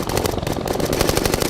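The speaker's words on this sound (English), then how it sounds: "you really want to have that be very live and very poppy and bright and articulate, so that's very much like a machine gun that we would hear here on Earth" A machine gun sound effect made for the film Avatar fires in a fast, sustained burst of sharp, bright, punchy shots, loud and close, with no talking.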